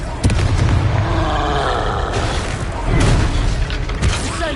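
A Confringo fire spell from the game Hogwarts Legacy goes off in a string of loud booming blasts and roaring bursts over a dense, continuous battle din, with no talk.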